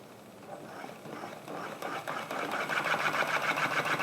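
An Electric Eel Nano electric spinning wheel motor whirs steadily, its hum building gradually in loudness with a fine, even mechanical buzz and no talking.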